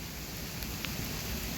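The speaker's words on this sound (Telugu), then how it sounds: "ఈ లోపల బీభత్సమైన వర్షం పడుతుంది." Heavy rain pours down by a fishing spot while someone shelters under a tree, a steady dense hiss of falling water with no voices.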